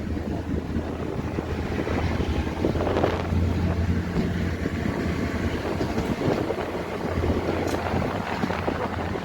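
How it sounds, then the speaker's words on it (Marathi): A Parli–Sangli DEMU Express pulling out of Latur station, heard from on board as a continuous loud rumble with a low engine drone and rail clatter building steadily, no talk. "जबरदस्त एक्सलरेशन घेत आहे आपली ट्रेन लातूरवरून निघाल्यानंतर"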